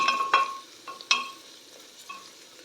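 Peas, onion and green chili fry over medium heat for tomato bath, with soft sizzling broken by a few sharp spatula scrapes and clinks against the pan, close up and fairly quiet.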